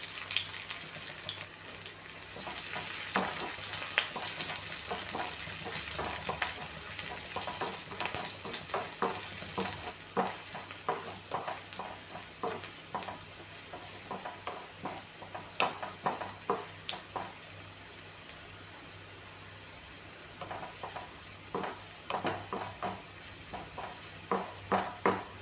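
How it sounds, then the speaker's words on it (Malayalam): Shallots and curry leaves fry in hot oil for a Kerala lunch curry, giving a close, continuous sizzle broken by frequent sharp scrapes and clicks of stirring, which grow more spaced out toward the end. "ചെറിയുള്ളിയും കറിവേപ്പിലയും കൂടി ഇട്ട് കൊടുക്കാം."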